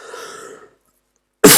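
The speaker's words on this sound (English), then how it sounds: "don't mean to keep coughing at you" A single sharp, loud cough bursts out close by after a faint trailing breath and a brief pause of silence.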